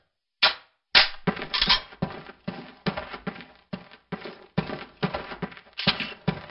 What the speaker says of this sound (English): Fire 6 more rounds at your target in different stances and while moving